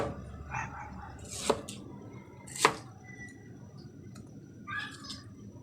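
A knife cuts cabbage into thin strips on a board in a few distinct, crisp chops spaced a second or so apart, with faint talk in the background.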